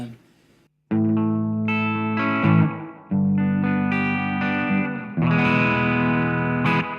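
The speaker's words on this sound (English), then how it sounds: "this is where I use my little trick, and this approximates a reverb." Sustained distorted electric guitar chords through a pedalboard effect that approximates reverb ring out with a washy, reverb-like tail, played in three long swelling phrases after a brief quiet start.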